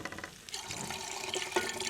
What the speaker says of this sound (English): I'm going to put a little bit more water in there.